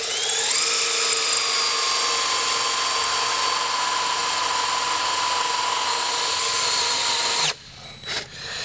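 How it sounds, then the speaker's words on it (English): A power drill bores into grey cast iron, a loud, steady high-pitched whine holding for about seven seconds before cutting off abruptly, followed by a few faint rattles. "So now let's drill it to identify the chips."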